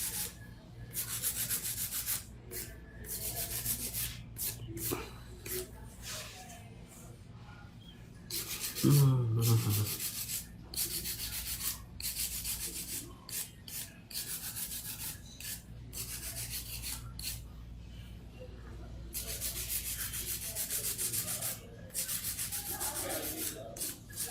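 Soft, rhythmic rasping strokes of a hand file smoothing scratch marks from an acrylic nail set, repeated many times at a steady pace, quiet and close, with a brief bump partway through.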